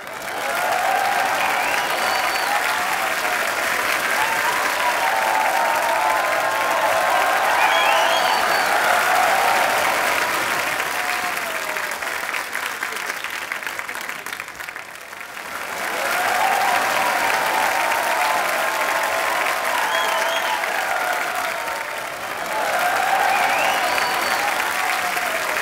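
Loud, sustained applause from a studio audience on a Hindi TV comedy show greets actress Ileana D'Cruz. The clapping runs steadily for about 25 seconds, dips briefly around the midpoint and then swells again, with no talking over it.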